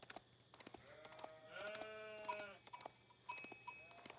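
Sheep bleating in the Age of Empires IV video game, several wavering game-animal bleats in succession over faint in-game ambience, fairly quiet, with no talk.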